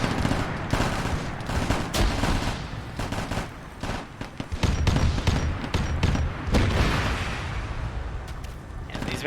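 Anti-tank rounds slam into armored vehicles during an Arma 3 battle, heavy booms and impacts layered over constant crackling small-arms fire, loud and dense throughout with brief lulls.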